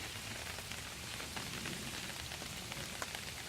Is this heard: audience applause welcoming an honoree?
no